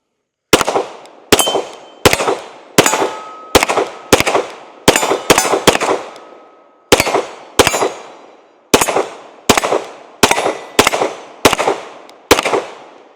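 Glock 17L pistol firing about seventeen sharp, loud shots in a steady, slightly uneven rhythm, each crack followed by a short echoing decay, with no talking.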